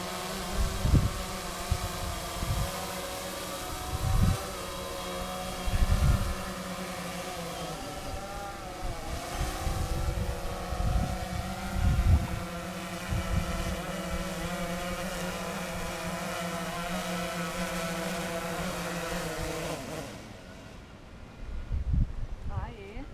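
Two camera drones flying in to land side by side, a steady high propeller whine with shifting pitch and bursts of louder buzzing, people talking over it, and the motors cutting out near the end.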